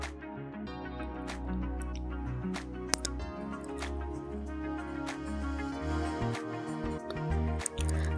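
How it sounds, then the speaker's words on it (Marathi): Wheat flour dough is kneaded by hand with water, giving soft wet squelches and sticky slaps at an irregular rhythm, close and quiet over a low background hum. "थोडं थोडं पाणी टाकून आपण पीठ मळून घेऊ"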